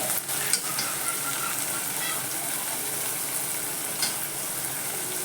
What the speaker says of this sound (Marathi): आता त्यात टॉमॅटो पण जरा चांगला परतून द्यायचा